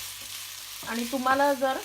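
Paneer bhurji with grated spring onion is stirred in a frying pan, giving a steady soft sizzle and scraping. Someone talks over it, her voice growing louder toward the end.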